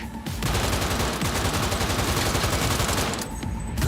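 Automatic gunfire from a weapon in Cyberpunk 2077 rattles on continuously, a dense, loud stream of rapid shots that barely lets up for nearly four seconds.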